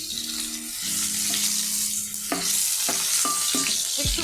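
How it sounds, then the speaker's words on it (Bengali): Boiled potatoes dropped into hot oil tempered with bay leaf and whole cumin, sizzling loudly and steadily close up as they are stirred, with scraping utensil strokes near the end. "ফোড়নে দিয়ে তাতে আমি দিয়ে দিব এই আলুটা সিদ্ধ করে নিয়েছিলাম"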